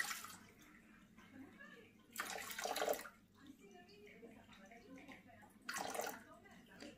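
Room-temperature water poured into a bowl in a home kitchen, two short bursts of splashing and trickling, close by, separated by quieter stretches with faint talk in the background.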